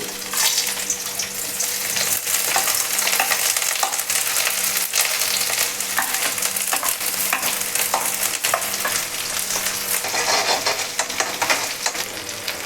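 Rohu fish frying in a pan of hot oil, a steady close sizzle with scattered pops and crackles running throughout, no talking.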